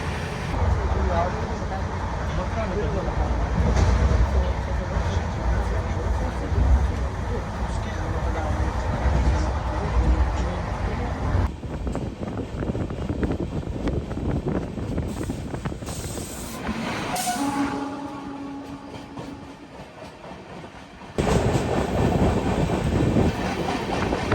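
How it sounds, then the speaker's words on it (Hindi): Taj Express train running at about 130 km/h, a loud continuous rumble and hiss with clattering wheel noise, the sound shifting abruptly partway through as conditions change; someone talks over it. "गाड़ी जब से निकली है तब से 130 की रफ्तार में ताबड़तोड़ रन दे रखा है गाड़ी ने एकदम"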